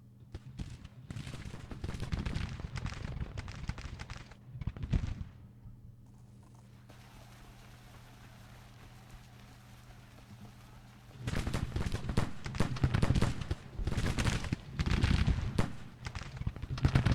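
Massed musket and rifle fire crackles in an American Civil War strategy game, dense overlapping volleys that drop away to a quiet lull with a low drone, then erupt again loudly.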